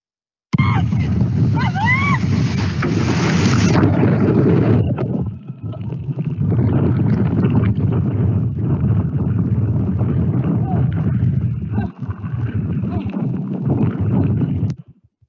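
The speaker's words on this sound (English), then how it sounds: "this was a capsize of a solo rowing boat" Big ocean waves crash around a solo rowing boat as it capsizes. The roar of churning water and wind is loud and sustained, with voices and shouts mixed in and a brief high whistle early on.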